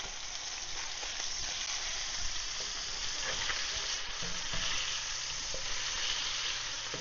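Fish fillet sizzles steadily in a hot pan after being flipped, a continuous close crackle and hiss with small spits and pops, with no voices.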